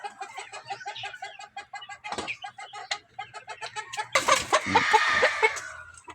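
Chickens on a gamefowl farm range cluck in short repeated bursts, close and clear, with a sharper squawk midway and a louder flurry of overlapping calls toward the end.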